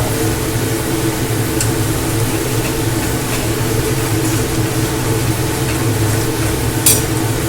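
Masala spice paste cooking down in a pan while being stirred for an egg curry, with a steady sizzle and occasional scrape, accompanied by a constant low background hum.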